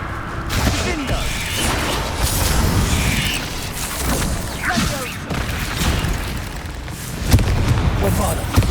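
Confringo fire-blast spells in Hogwarts Legacy go off as repeated booming bursts over a dense game soundscape, with a voice speaking over it.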